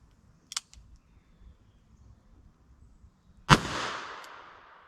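A Smith & Wesson 686 revolver fires a single .38 Special wadcutter over a chronograph, one sharp loud crack with a ringing decay, preceded by a small click.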